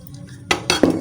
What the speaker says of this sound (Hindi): सबसे पहले ये लेना है बर्तन